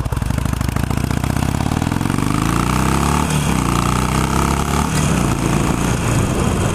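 A Harley-Davidson Sportster 883 motorcycle rumbles loudly while riding, its V-twin engine throbbing steadily with pitch rising and falling as the revs shift, up close with wind noise.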